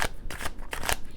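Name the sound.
tarot cards being shuffled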